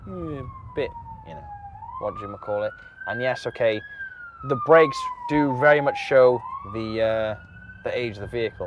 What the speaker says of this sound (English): there was a police car. I do apologise for the noise there